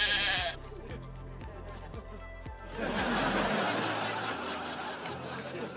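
A sheep bleats in a TV sitcom scene, a few wavering cries mixed with dialogue and bursts of studio audience laughter, all at moderate volume.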